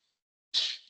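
A single short, sharp sneeze bursts out nearby after a moment of silence, loud and abrupt, during a maths lesson.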